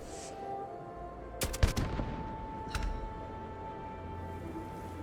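Gunfire in Starfield aimed at a turret: a tight burst of several sharp shots around the middle, then one more shot a second later, over a low ambient game hum with no talk.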